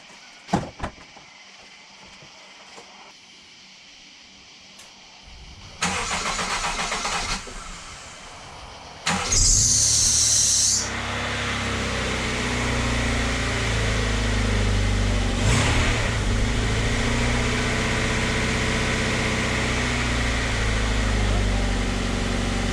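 A Honda CR-V engine with a check engine light on cranks and catches, then settles into a loud, steady run with some revving, after a few clicks and quiet handling sounds.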